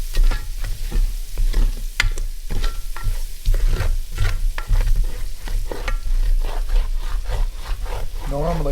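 Flour stirred into hot oil for green chili chicken stew sizzles loudly and close by, with repeated scraping strokes of the spoon against the pot at an uneven rhythm.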